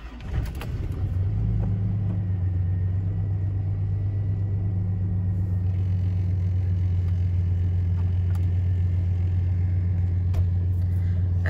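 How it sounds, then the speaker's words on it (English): A car engine catches and settles into a steady, loud idle rumble that holds for several seconds, with no voices. "you can crank the car and start it up"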